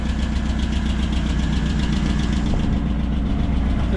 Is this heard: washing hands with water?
no